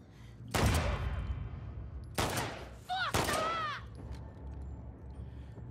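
Gunfire from The Last of Us Part II, with three sharp, loud bursts of shots spaced out over a few seconds and a short game tone mixed between the last two.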